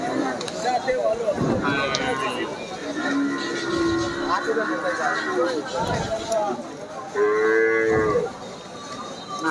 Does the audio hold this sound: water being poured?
no